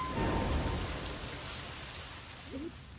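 Heavy rain pours down steadily in an outdoor scene from an Indonesian film, a dense continuous hiss with no pauses and no voices.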